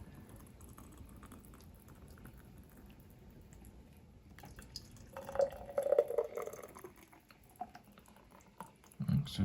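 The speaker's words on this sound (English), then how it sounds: "let's pour it into 2 glasses and see what it looks like" Blended juice from a vacuum blender pours into two glasses, a soft trickle and gurgle that swells into louder splashing partway through, then tails off with a few drips.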